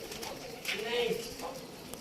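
Pigeons coo softly in a low, faint murmur as a flock of racing pigeons settles on a rooftop, with a voice nearby.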